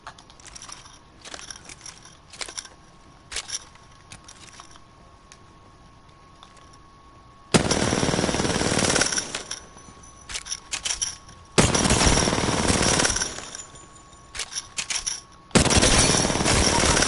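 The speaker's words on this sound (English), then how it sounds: "Now it's time to use my favorite weapon, the R9." An R9 gun fires in a video game, first as scattered single shots and short taps, then as three long rapid full-auto bursts that sound loud and close.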